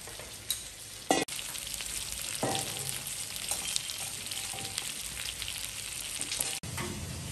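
Meat and squid fry on an iron griddle with a steady, close sizzle, broken by occasional scrapes and clacks of a utensil stirring and moving the food.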